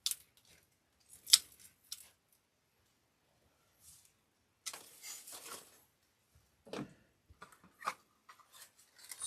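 Scissors trim the stems of a 14-inch grapevine wreath in sparse, quiet snips and rustles, spread out with long silent gaps.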